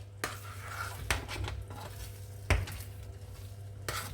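Beef mince pie filling is stirred in a pot: soft scraping and gentle sizzling, punctuated by several sharp utensil knocks against the pot at irregular intervals, with no one talking.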